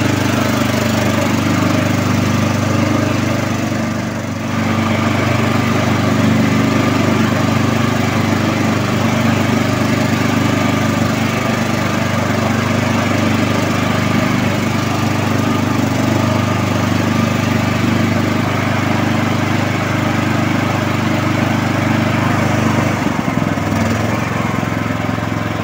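A CastelGarden XD 150 HD ride-on lawn mower engine runs at full throttle, giving a loud, steady, close droning roar with a brief dip in level early on and no speech over it.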